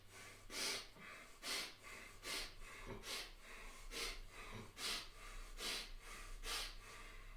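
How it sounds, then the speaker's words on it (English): Slow, repeated breaths drawn in and let out during a stance-and-breathing exercise session, each inhale a broad airy rush recurring roughly every second alongside a low steady hum, close and fairly quiet. "Breathe in."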